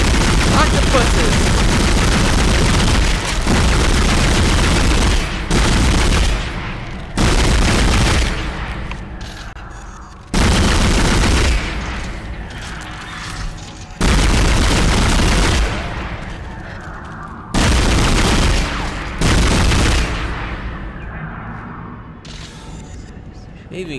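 Loud gunfire in the video game Dead Space, several heavy blasts separated by short gaps, each followed by a decaying tail, with no voices over it.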